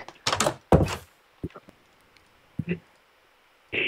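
Doors in the game Minecraft are placed and swung open, a run of short wooden thunks and clacks in uneven bursts separated by quiet gaps.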